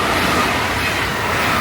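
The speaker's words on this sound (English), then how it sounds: "sorry about that, the train went by" A train rushing past close by, a loud continuous broadband roar with no talk over it.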